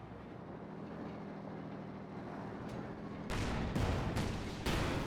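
Mortar blasts and gunfire in the World War II strategy game Company of Heroes 2: a steady battle rumble, then a few loud, close thumping bursts near the end.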